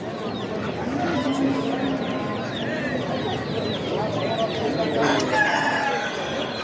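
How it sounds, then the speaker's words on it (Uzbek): Chickens clucking and a rooster crowing amid a busy outdoor poultry market, with people talking nearby over steady background noise. "Xo'rozmi? Xo'roz."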